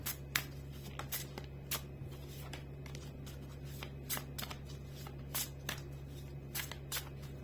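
Oracle cards being handled and shuffled close up, a run of crisp riffling snaps and flicks over a steady low hum, with no talking.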